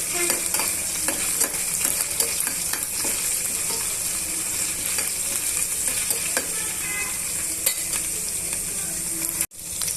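Onions, green chilies and ginger-garlic paste fry in a pan with a steady close sizzle, and stirring clinks through it for about ten seconds. A brief gap comes near the end.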